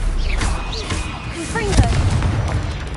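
A Stupefy spell cast in a fantasy game, a whooshing magical burst with swooping tonal chirps layered over a dense rumbling battle din, loud and close.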